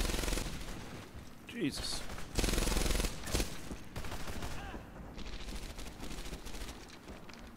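Thompson submachine gun fire in Medal of Honor Airborne, loud bursts and rattling volleys across a busy wartime battle soundscape, with a voice briefly heard over the shooting.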